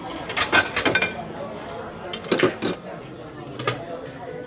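Carving the last cut of roasted Angus prime rib at a restaurant, with knife and metal utensils clinking against a serving tray in a few short clusters, over murmured room noise.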